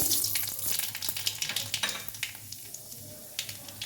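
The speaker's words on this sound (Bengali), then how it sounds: "দিচ্ছি কালো জিরে ফোড়ন দিচ্ছি" Nigella seeds sizzle in hot oil for tempering, a bright crackling hiss with quick popping bursts that are loudest at first and then settle into lighter, intermittent spatters close by.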